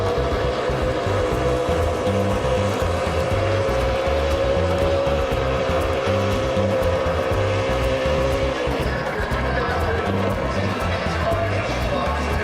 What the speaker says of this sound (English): Might have burned the rest of those tires off that 9 car in the celebration